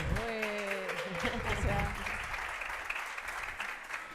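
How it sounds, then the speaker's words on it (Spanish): Applause from a church congregation welcoming guests at a Word of God Sunday service, a steady clapping texture with a voice speaking over the first part before the clapping continues alone. "para quien también les pido un fuerte aplauso"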